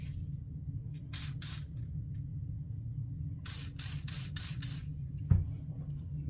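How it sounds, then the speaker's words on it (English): Several short hissing sprays of cleaner onto a S&W Equalizer pistol spring, two early then a quick run of four, followed by a small knock, over a low background hum. "Go ahead and give it a spray."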